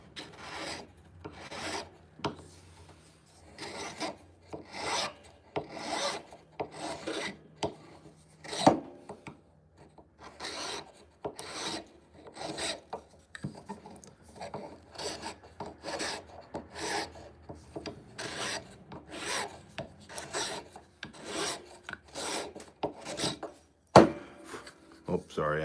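An ebonite pipe stem being shaped with a hand file: repeated rhythmic rasping strokes, close and fairly loud, with short pauses between strokes and an occasional sharp knock, plus faint talk in places.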